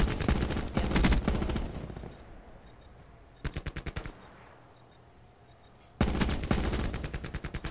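A burst-fire gun fires in Black Ops 4: three loud, rapid bursts of closely spaced shots, each a tight rhythmic rattle, separated by short pauses with faint game ambience.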